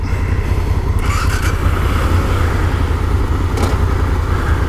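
An adventure motorcycle's engine runs steadily in an outdoor forest setting, a loud continuous low rumble throughout with no talk.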